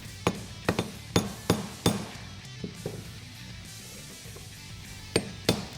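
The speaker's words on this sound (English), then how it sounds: "you can hammer the perch down and get the collar on." Metal hammer blows strike a spring perch on an F-150 Raptor leveling kit, sharp ringing impacts in a quick irregular series of about ten, close and loud, with a short pause midway.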